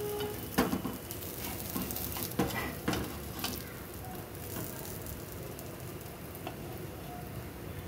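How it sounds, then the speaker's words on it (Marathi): Bitter gourd frying and being flipped in a pan over low heat, a steady sizzle running throughout with several sharp scrapes and clatters of the turning utensil, faint talk underneath. "आता हे आपण पलटी करून घेऊया"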